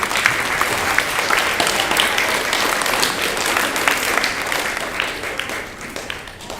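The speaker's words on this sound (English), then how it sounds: "Give them a clap" Students heading to middle school are applauded at their school graduation, a steady, crisp round of clapping from a gathered audience that fades slightly toward the end.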